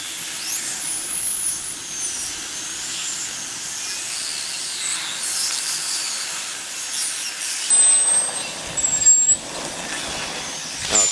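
A spaghetti thermic lance burns with a steady, loud oxygen hiss and a roaring rush. The hiss flares and sputters toward the end, with no talk.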